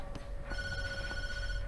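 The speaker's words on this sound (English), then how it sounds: "The phone's ringing." A telephone rings in the video game Tattletale, a steady electronic ring with sustained tones that holds on and loud for the whole stretch, with no voices over it.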